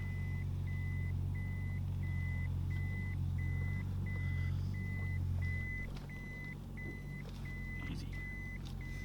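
A Toyota Chaser JZX100 in reverse sounds a steady series of evenly spaced reversing beeps, about two per second, over a low idling engine rumble, with a few clicks and knocks near the end.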